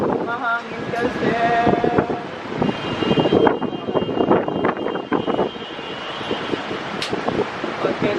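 Strong wind outdoors buffeting the microphone with gusty low rumbles and rushing noise, while voices talk over it.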